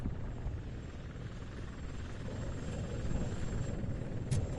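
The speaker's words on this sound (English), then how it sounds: "That's a TV helicopter." A TV news helicopter in the video game RoboCop: Rogue City gives a steady, dense rotor rumble that holds at an even, fairly loud level throughout, with no voices over it.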